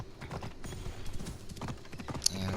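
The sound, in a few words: horse hooves in Assassin's Creed video game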